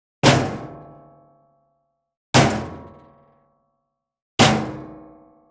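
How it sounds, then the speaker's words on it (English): Three heavy, unprocessed metal weapon hits spaced evenly apart, each a sharp strike that rings out and fades into silence. "Let's have a listen to one of the metal hits. This is without processing."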